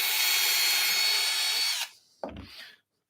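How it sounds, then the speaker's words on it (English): Power drill boring down through a wood workpiece on a shooting board in a woodworking shop, a loud steady whine for nearly two seconds that cuts off abruptly, followed by a brief clunk and rattle of handling. "We can drill down through here."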